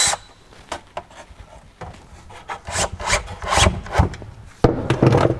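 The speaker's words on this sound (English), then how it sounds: "I'll screw it on in the middle here" A screw is driven by hand into the wood of a rolling tool box drawer, giving irregular rasping, creaking turns that grow louder toward the end, close up with no talk.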